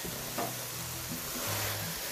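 Beetroot and lamb meat sizzle softly in an oiled pan, a steady faint frying hiss with light stirring scrapes and no talk.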